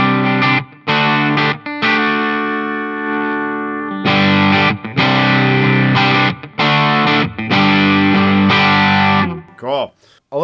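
Electric guitar through a Fulltone GT-500 overdrive pedal with its bass control centered: loud, gritty chords and riffs chug in bursts separated by short stops, close up, ending with a brief spoken word.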